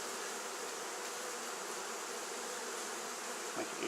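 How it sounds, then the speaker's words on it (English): A honey bee swarm being shaken into a top bar hive hums in a dense, continuous buzz, close and steady throughout with no talking. "first thing is just to shake the bees in there"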